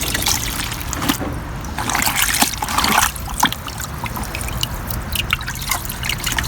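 Water trickles and sloshes steadily in a washing machine tub with splashy, gurgling bursts, close and continuous, no voices.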